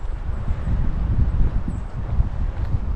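Strong gusty wind on a hiking trail buffeting the microphone, a continuous low rumbling roar that surges and eases, with no talking.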